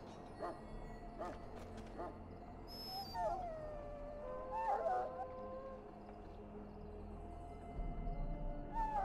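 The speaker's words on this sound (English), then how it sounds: "Now I can treat the dog properly, poor fella." A wounded dog whimpering and making soft howling whines in Dragon Age: Origins, a few quiet, drawn-out wavering cries over a low, steady ambient hum.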